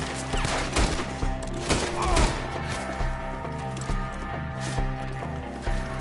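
Gunfire in a Red Dead Redemption 2 shootout at an enemy up in a tree: scattered shots and bursts over a busy mix, with hoof-like clatter and a voice shouting partway through.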